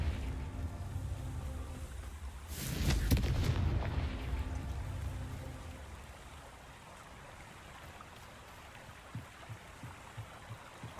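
A Confringo fire spell bursts in Hogwarts Legacy as a single booming blast. The blast rises out of a low, rumbling game ambience and fades into a softer crackle.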